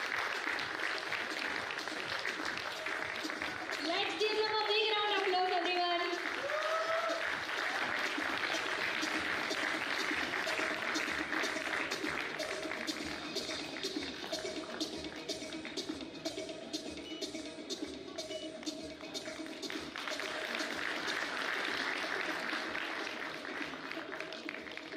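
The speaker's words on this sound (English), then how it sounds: "Let's give them a big round of applause, everyone." Continuous audience applause at the Compounding Experts Meet 2024 award ceremony: a steady, even wash of clapping that lasts throughout, with a brief tonal sound and some faint voices rising near the start.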